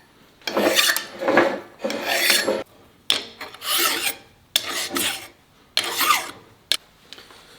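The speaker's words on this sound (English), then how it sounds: "I'm going to go over it with a file, or both surfaces with a file" Hand file rasping across the metal surfaces of an axle carrier during a 9.75 axle rebuild for a 2004 Ford F-150, six close, even strokes in a steady back-and-forth rhythm, with no voices.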